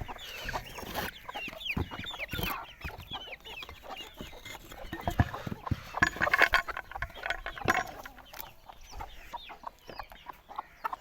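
Chickens cluck and chatter in a steady, crowded stream, close up, with occasional sharper squawks and bumps.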